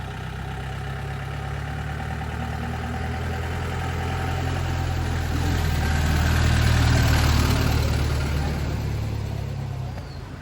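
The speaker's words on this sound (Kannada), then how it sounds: "ಸೊ ಇನ್ನೇನು ಜೀಪ್ ಸ್ಟಾರ್ಟ್ ಆಯ್ತು" A jeep engine idles steadily nearby on a hill road at Ranipuram in Kerala, its low drone swelling louder midway as if revved or drawing closer, then easing off again.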